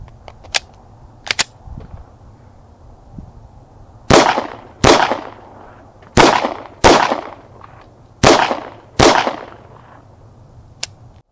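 A Walther PDP F-Series 9mm pistol with a 3.5-inch barrel is fired at targets about 10 yards away. Three sharp, loud pairs of shots ring out close by, after a few fainter pops from elsewhere on the range.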